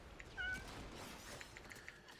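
A pet house cat gives a short, quiet meow near the microphone, followed by faint scattered rustles and soft cries with no talking.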